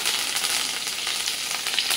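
Curry leaves and red chillies crackle in hot oil while seasoning a garlic poha chivda, a dense, steady sizzle that stays close and loud throughout with no voices.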